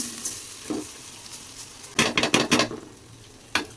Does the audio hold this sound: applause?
no